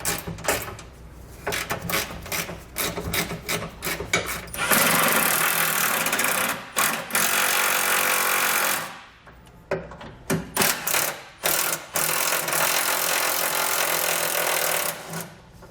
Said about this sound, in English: We'll grab a 17mm socket and we'll pull those bolts out.